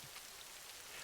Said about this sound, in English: The late autumn rain tapped against the tall windows of Estée's modest New York office like a hesitant visitor.